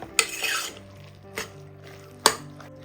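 A spoon knocks against a pan while egg curry masala is mixed: three sharp metallic clanks spaced over a few seconds, with soft scraping and a low background hum between them.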